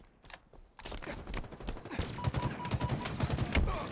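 Rapid bursts of burst rifle gunfire in the video game Halo Infinite multiplayer, clustered three-round volleys repeating over busy battle noise, fairly close and getting louder toward the end.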